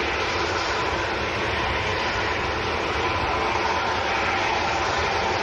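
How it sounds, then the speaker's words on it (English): At Manchester Airport, an aircraft taxis with a steady, broad engine roar that holds at an even level, close and continuous, with no voices. "Still quite a lot of aircraft going to come down our favourite taxiway."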